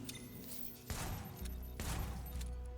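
Shotgun blasts in The Division, two heavy booming shots about a second apart, each followed by a ringing decay, over a faint game background.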